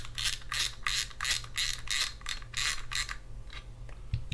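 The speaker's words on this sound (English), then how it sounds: "first I'm going to hit that spool up by unscrewing this knob" A spool knob being unscrewed on a Penn Battle II 8000 spinning fishing reel, giving a run of about ten quick, evenly paced ratcheting clicks up close, fading to faint ticks near the end.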